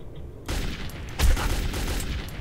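AK rifle fire in the video game Metro 2033: a rapid burst of shots starting abruptly, with a heavier boom partway through, loud and close with no talk.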